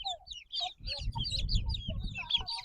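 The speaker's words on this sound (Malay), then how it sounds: "Ayam tancau akan terbang ke bumi Terengganu dan membesar di sini" Tancau chickens, a rare breed from Vietnam, clucking in quick overlapping bursts, close and moderately loud, with higher chirps over low rustling and handling noise.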